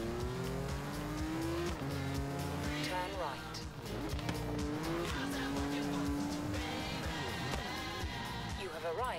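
Hot Wheels car racing in Forza Horizon 3, with a steady engine drone, shifting revs and tire squeals running throughout, under a talking voice.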